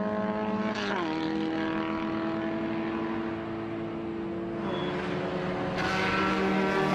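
A vintage MG race car engine at Watkins Glen drones steadily with a strong tonal hum. The pitch rises and falls as the car accelerates and changes gear, loud and continuous throughout.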